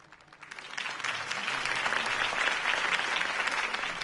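In the video game Batman: The Telltale Series, a crowd's applause after a campaign speech swells quickly and holds steady, a dense patter of clapping without voices over it.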